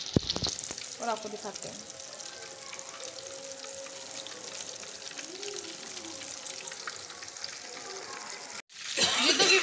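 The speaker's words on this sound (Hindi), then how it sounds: "तो इसी तरह बाकी फ़िश को भी हम लोग फ्राई कर लेते हैं" Chira fish frying in hot oil in a pan, a steady loud sizzle and crackle running throughout, with a person speaking briefly near the start and a louder burst of spitting oil at the end.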